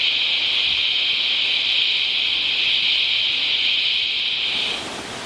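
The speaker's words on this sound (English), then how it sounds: "I'll show you the waterfalls. So that's her, Curtis Falls." Curtis Falls in Mount Tamborine National Park, flowing strongly, gives a steady, unbroken rushing hiss of falling water that holds even throughout and softens slightly at the very end.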